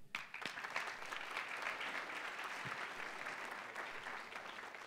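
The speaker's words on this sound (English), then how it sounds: "please, a big applause" An audience at a talk on floating islands and architecture breaks into thick, continuous applause, with a few sharper claps at the start, then an even roar of many hands throughout at moderate loudness.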